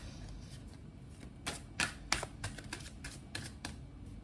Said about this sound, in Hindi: मैं एक कार्ड निकालती हूँ ओवरऑल गाइडेंस के लिए आपके।